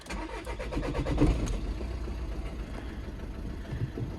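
A Seat Leon that has stood unused for about seven months cranks briefly and starts straight away, catching with a firm rev before settling into a steady idle rumble.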